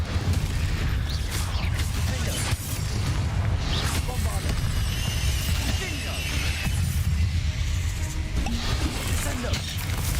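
A fiery Incendio spell blast in the video game Hogwarts Legacy, heavy booming rumble and crackling bursts running continuously alongside dense game effects, with a person talking over it.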